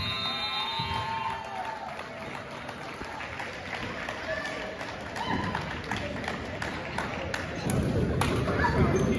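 A crowd in a gym claps during a frosh/soph high school basketball game, uneven clapping mixed with thuds, footsteps and scattered voices nearby.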